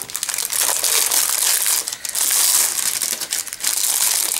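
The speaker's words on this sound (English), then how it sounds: "Sorry for the crinkling." Crinkly plastic pouch being handled and unpacked, a near, loud, continuous rustle and crumple that keeps going with brief dips.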